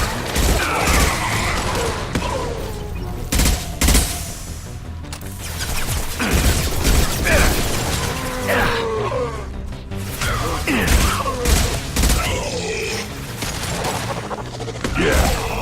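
Heavy weapon fire in the video game Mass Effect 2, repeated loud blasts and crashing impacts in irregular bursts amid mechanical clanks and battle noise, dense and close throughout.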